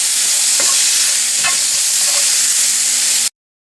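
Sliced onions sizzle and fry in a pan with salt for a Kerala no-coconut moru curry, stirred with brief scraping strokes, loud and close, ending abruptly in silence.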